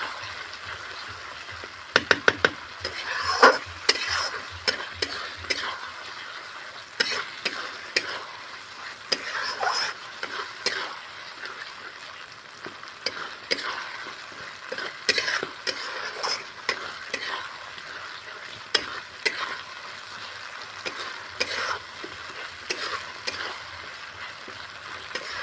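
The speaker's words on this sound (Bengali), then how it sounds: "মশলাটা কষে নেব যতক্ষণ না মশলা থেকে তেল ছেড়ে আসছে।" Spices for a village-style spicy red mutton curry frying in oil and being stirred, a continuous soft sizzle broken by frequent close scrapes and clacks of the spoon against the pan, with no talking.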